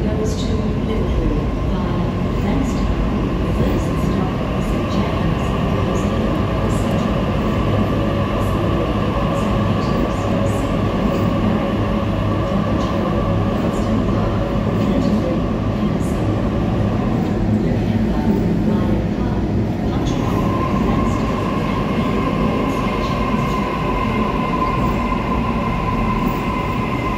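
Suburban B-set train at a Circular Quay station platform, a steady loud rumble of rolling stock with a sustained wheel tone and faint squeal throughout, continuous and close, with no talk.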